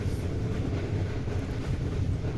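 Steady low rumble of the Karakoram Express in motion, heard from inside a passenger cabin on a winter run from Karachi to Lahore, continuous and fairly loud with no talk.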